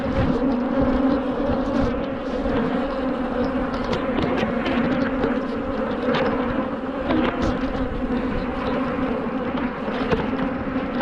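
Angry honeybees swarm around a split double-brood hive in an apiary, a dense, loud, continuous buzzing drone that holds steady and close throughout with no voices.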